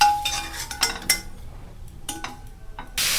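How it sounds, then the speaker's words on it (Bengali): Fried potatoes are lifted out of an oil-filled kadai, with scattered metal clinks and scrapes of a spoon against the pan, close and fairly quiet, ending in a burst of hiss. "এবার আলুগুলো তুলে নেব।"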